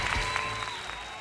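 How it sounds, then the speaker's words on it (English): Dense crowd applause and cheering in Yakuza: Like a Dragon at an arena fight, a steady wash of clapping filling the brief moment with no clear speech. "The crowd is so hype."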